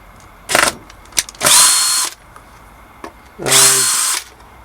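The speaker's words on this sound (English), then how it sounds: "Now I'm going to take off the plate with my trusty old Makita drill driver." A Makita cordless drill driver whirs in three bursts while unscrewing a bass guitar plate, a short one, then two longer runs with a brief click between, the last winding down in pitch.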